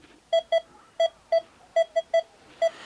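A metal detector on a Baltic beach at Stegna gives a series of sharp, loud, evenly pitched electronic beeps in an uneven rhythm, close by, with no talk.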